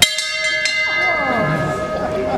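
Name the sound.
bell rung to signal speaking time is up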